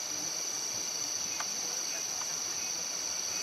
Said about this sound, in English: except for the sound of crickets and the faint children in the background